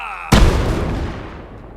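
A grenade explosion in a video game sounds as one sudden loud boom that decays over about a second and a half, heard alone after a faint tonal backdrop.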